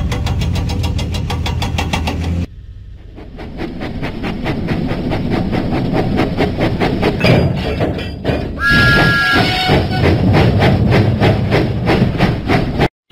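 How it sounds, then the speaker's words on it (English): A rhythmic chuffing steam engine in a Thomas & Friends video game puffs loudly and steadily, with a short break, then resumes its huffing beat with a brief whistle-like tone. "Huffing and puffing, Thomas set out for the diesel works."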